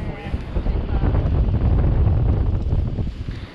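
Wind buffets the microphone aboard a boat during salmon fishing with lures, a loud, steady, rumbling roar that swells and eases slightly but never drops away.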